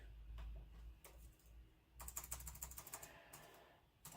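Fingers tap out irregular bursts of keystrokes on a computer keyboard, faint and close, with a quiet pause in the middle before a quicker run of clicking, no voices over it.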